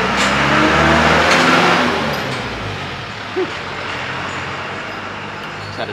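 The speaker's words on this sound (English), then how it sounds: "It's had a noisy truck go past, so that's why we just cut it." A loud truck rumbles past close by a restaurant in Chiang Mai, Thailand, its roar peaking early and then fading into a steady lower drone.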